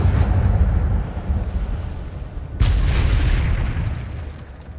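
Incendio fire spell cast in Hogwarts Legacy: a sudden loud whooshing burst erupts midway, rising over a dense, rumbling game backdrop and then slowly fading.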